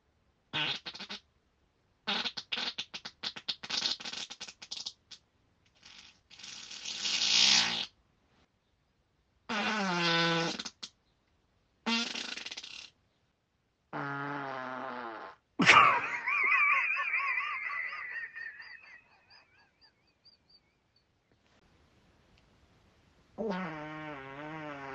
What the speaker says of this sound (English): I did a nice set of farts from that